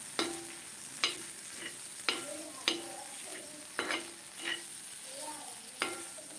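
Spoon stirring and mixing chillies for thecha chutney in a pan with a little oil, a soft sizzle underneath and about seven distinct scraping strokes at a slow, uneven rhythm.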